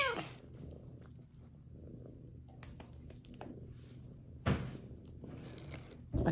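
A house cat purrs softly as it lies still, a low continuous rumble heard close up with a few faint knocks and rustles around it.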